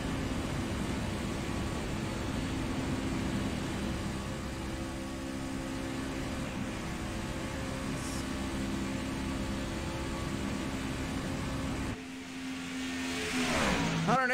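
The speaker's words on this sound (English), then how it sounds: "we'll take a lap around here at Daytona as we're riding along with Randy Brashear's right now" Simulated racing trucks in the iRacing video game lap Daytona, a steady loud engine drone that drops out briefly near the end before another revving pass returns.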